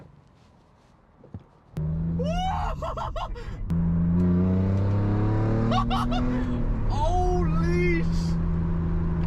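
A BMW 3 Series with a newly fitted switchable exhaust revs hard: a deep, loud engine roar that climbs and falls in several rising pulls, close by, with a man exclaiming over it.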